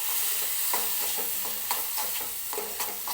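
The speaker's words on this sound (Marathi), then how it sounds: "आता जी मटकी शिजून घेतली होती ती या मसाल्यामध्ये मी सुरुवातीला टाकून घेते आणि ती सुद्धा या मसाल्यासोबत व्यवस्थित परतून घेते." Cooked matki sprouts are sautéed in a spice masala, giving a steady close sizzle of frying with repeated scraping stirs against the pan throughout.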